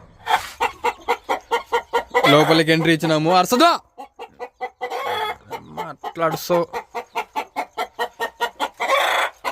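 Chickens in a shed cluck in a fast, regular string of calls, loud and close, with a longer drawn-out squawk partway through and someone talking over them.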